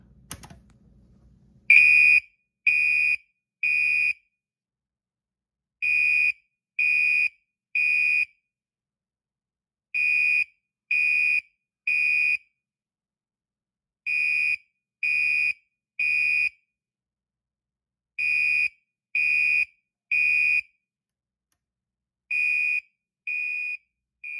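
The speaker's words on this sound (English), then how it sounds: "So this one has the Commander 3 horn in it." A fire alarm with a Commander 3 horn sounding in code 3 temporal pattern, loud bursts of three harsh buzzing blasts separated by pauses, repeating about seven times with nothing else audible.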